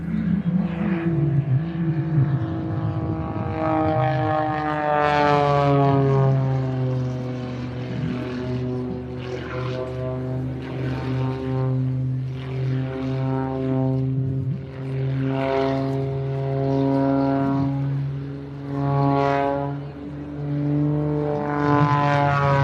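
An aerobatic propeller plane performs a display at the Bournemouth Air Festival, its engine note rising and falling in pitch through repeated climbs and dives, loud and sustained with a commentator talking over it.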